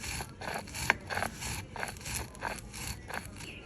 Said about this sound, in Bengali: কালো জিরাগুলোকে আমি পাটায় বেটে নেব।